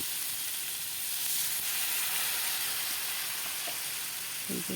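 Bitter gourd curry cooks in a pan after a splash of water is added to the spiced gravy, giving a continuous loud sizzle and hiss with faint stirring taps and no talking.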